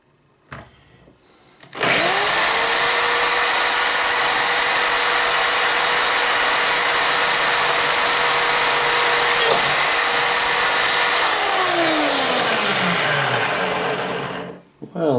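A power drill runs at high speed into a K31 rifle recoil pad, a loud sustained whine close up that starts abruptly, holds for about twelve seconds with a brief dip, then winds down as the motor slows.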